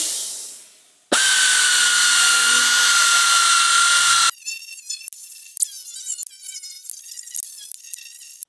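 A hose-fed air-powered tool works the paint on a 1968 Mustang, letting out a loud, steady high-pitched whine for about three seconds before stopping sharply. Quieter scattered chirps follow.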